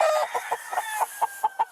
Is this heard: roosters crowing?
yes